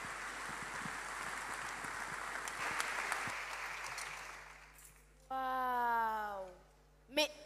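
An audience at a church conference event, the Impact Conférence 2023 inauguration, gives a sustained round of applause that fades out after about four seconds. A speaking voice then takes over.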